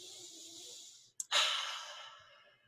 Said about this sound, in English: Take a deep breath.